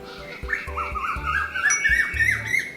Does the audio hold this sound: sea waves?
no